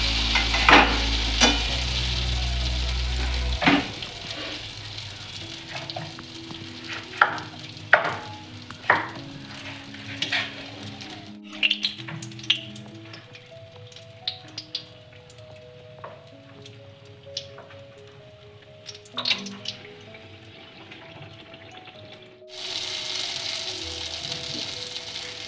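Semolina and jaggery pitha frying in oil as the pieces puff up: a soft, faint sizzle with scattered light taps and clinks of a utensil, a brief louder rush at the start and near the end, no talking.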